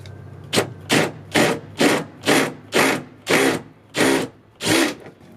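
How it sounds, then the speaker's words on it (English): A step bit bites into metal in eight short, evenly spaced bursts, each a harsh grinding rasp, close by. "I'm using a step bit."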